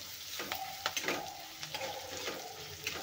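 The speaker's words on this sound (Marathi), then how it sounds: "1 मोठा लसणाचा गड्डा मी असा छान क्रश करून घेतलेला आहे, तोही घालायचा आणि तेलामध्ये मस्त फ्राय" Crushed garlic fries in hot oil in a pan while making thin poha chivda, a soft continuous sizzle with occasional stirring scrapes, fairly quiet and close.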